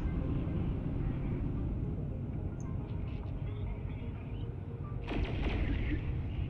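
Big ship explosions rumble through EVE Online space combat as a steady low roar, with a sharper crackling burst near the end.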